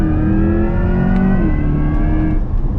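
A 2024 Corvette E-Ray, a V8 hybrid, accelerates hard with a loud, close, sustained engine roar and rising harmonic tones blended with an electronic whine, continuous for about three seconds with no talk.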